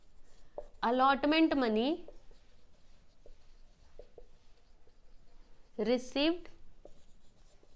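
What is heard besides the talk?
writing a narration entry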